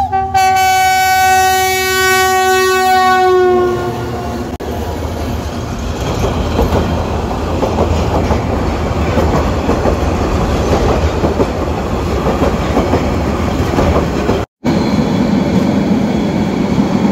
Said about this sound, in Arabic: شايفين قطار